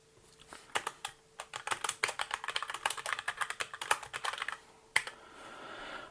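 Fast typing on a computer keyboard, with close, crisp, irregular key clicks in steady bursts for several seconds, then a pause and a final few taps, with no talking.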